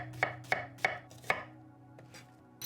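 A knife chops through medium-sized onions on a board in a home kitchen, four crisp evenly spaced cuts followed by a few quieter taps, close and clear with no talking.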